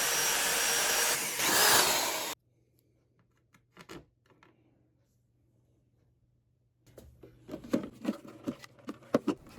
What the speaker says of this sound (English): And for the switch, I have to drill a hole here.